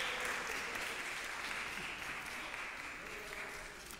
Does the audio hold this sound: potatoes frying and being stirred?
no